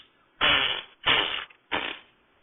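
A voice imitating farting noises in a comedy sketch: three separate buzzy, raspy blurts, each about half a second long, close and clear with short pauses between.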